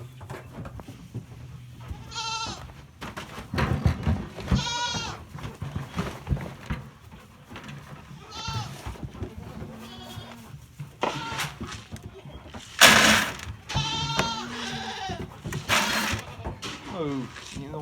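Goats, mostly nanny goats, bleat repeatedly around a feed trough on a farm, a close, overlapping chorus of loud and wavering calls with rustling and shuffling between them.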